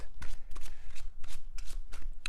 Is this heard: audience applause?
no